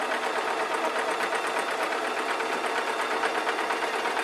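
Netting fabric for a pleated gossamer shirt runs through a sewing machine, giving a steady, continuous close-up whir and rattle of stitching that holds unbroken for several seconds with no talking.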